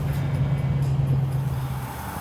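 Ford Mustang GT500 cruising down the road, heard from inside as a steady low engine drone with road rumble that holds evenly throughout, no talking.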